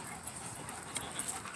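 A dog pants quickly and softly at an outdoor dog park, a faint, steady breathy rhythm close to the recorder with no talking.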